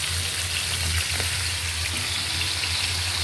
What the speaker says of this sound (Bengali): মাছ ভাজাটা শেষ, নামাই ফেলামো।